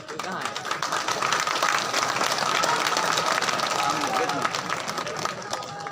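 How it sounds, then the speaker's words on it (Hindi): Loud, sustained applause from a large crowd at a BJP party workers' rally in a stadium, a steady wash of clapping with crowd murmur underneath throughout. "जोरदार तालियों के साथ में"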